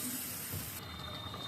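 Water splashed around frying fish in a hot pan sets off a loud, steady sizzling hiss that continues unbroken for the whole short moment, with no voices over it.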